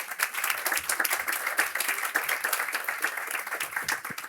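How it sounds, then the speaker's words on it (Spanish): An audience at the Fundación Más Humano awards ceremony gives sustained, evenly textured applause with many overlapping claps, fairly loud and close throughout, with no speech over it. "que recibimos con un aplauso."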